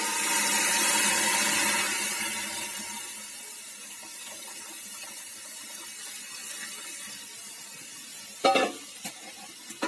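Jute leaves fry with chopped garlic, onion and dried chilli for dal, giving a steady broad sizzle that is loud at first and then settles lower, with a few sharp clatters near the end.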